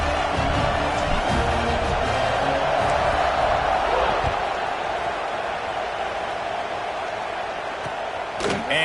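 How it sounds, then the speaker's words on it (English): A football stadium crowd at a Florida versus Notre Dame game keeps up a loud, continuous roar and buzz after a score, with broadband noise and scattered shouts throughout. "this crowd is buzzing after that last score"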